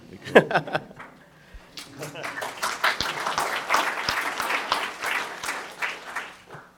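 Audience applause at a technical overview session for an analysis software ecosystem, a dense, steady crackle of many hands clapping close by for several seconds, with a few chuckles and murmurs mixed in.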